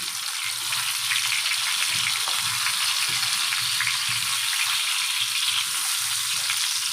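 Eggplant fries in hot oil with a loud, dense, continuous crackling sizzle that stays steady and close throughout, with no talk.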